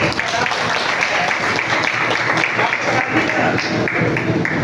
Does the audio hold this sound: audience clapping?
yes